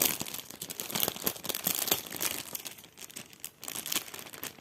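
A folded paper pouch from a cross-stitch bookmark kit is opened close by, with several seconds of crisp crinkling and crumpling paper and a few sharper tearing bits.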